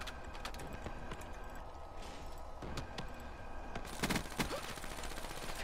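Distant gunfire in a Call of Duty: Black Ops team deathmatch: faint scattered shots, then a louder cluster of rapid bursts near the end over a low background hum.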